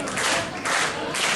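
Wrestling crowd at an ETWA independent show, swelling cheers and clapping in short waves, loud and close, with no talk over it.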